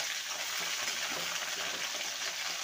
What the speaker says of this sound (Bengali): ডাঁটাটা দিয়ে 2 মিনিট ভেজে নেব